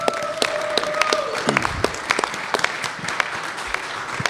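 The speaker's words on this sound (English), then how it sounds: "Let's give her a round of applause" An audience at a First Nations voting forum in a convention centre breaks into brief applause, a burst of claps rising over a speaker's voice and fading within a few seconds.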